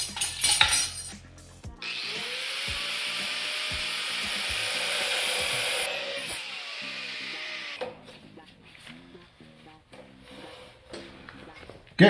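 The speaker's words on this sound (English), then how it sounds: "I'm gonna use the good old cutting disc, cut a notch in there so that I can run it." Abrasive cutting disc grinding a notch into the metal frame of a mini bike with a 6.5 HP engine, a loud steady high whine lasting several seconds before it winds down into quieter clatter and handling noise.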